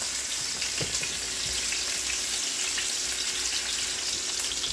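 Beef shanks searing in a hot pan, a steady, even sizzle with faint crackles that holds without pause.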